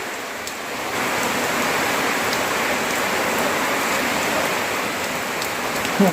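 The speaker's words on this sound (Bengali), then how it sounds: "দমকা দমকা হাওয়া মারছে আর তার সাথে পড়ছে বৃষ্টি" Steady rain falls under gusty wind, a dense even hiss that holds at constant loudness throughout, with no voices.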